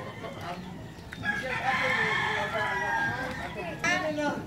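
A rooster crows loudly nearby in Cebu, Philippines, one long drawn-out cock-a-doodle-doo, then a second shorter crow begins. Other fowl cluck and people talk in the background.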